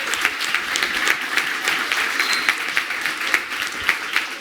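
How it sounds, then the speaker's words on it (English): Audience at a kids competition on a playground stage clapping for the participants, a steady, moderately loud patter of many hands with distinct individual claps standing out. "so please, fantastic applause to them."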